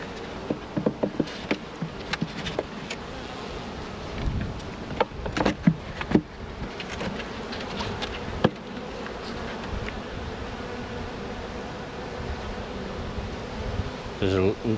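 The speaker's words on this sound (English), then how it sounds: "So we've still got bees." Honey bees in an opened hive fill the air with a dense, steady buzz that continues for the whole stretch, with individual bees droning past close by and occasional light knocks of hive handling.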